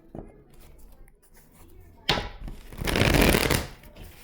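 Playing cards are riffled and shuffled in a short rustling burst, with quiet sounds before it and no talking.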